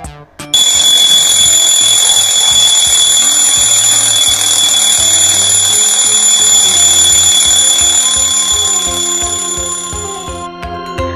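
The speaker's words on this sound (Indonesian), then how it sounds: "Sekarang kita dengarkan bunyi bel jam beker." A loud, continuous metallic alarm clock bell rings steadily for about ten seconds, starting abruptly and fading slightly at the end.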